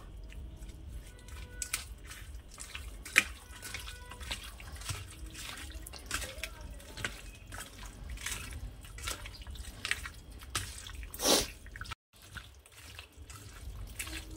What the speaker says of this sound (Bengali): দেখুন মাংসটা মাখতে মাখতেই সুন্দর একদম মাখা হয়ে গেছে